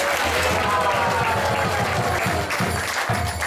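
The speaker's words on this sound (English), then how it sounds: "Let's give them a big round of applause." Audience applause at a temple festival, a steady wash of clapping from a crowd that fills the whole stretch, loud and close throughout.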